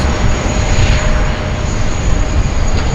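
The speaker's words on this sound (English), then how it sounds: "the Qantas Freight 767-300 coming from Hong Kong" A Qantas Freight Boeing 767-300 jet cargo plane from Hong Kong roars loud and close at Sydney Airport, a continuous broadband engine rumble with no voices.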